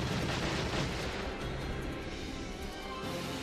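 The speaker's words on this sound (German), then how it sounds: "Überall Explosion, aber die Sandsäcke stehen noch" Explosions in Valkyria Chronicles battle, a dense, continuous rumble of blasts and crashing impacts, loud and close throughout with no gaps.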